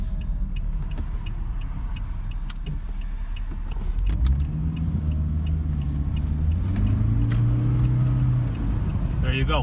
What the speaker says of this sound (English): I'm going over some rough roads here.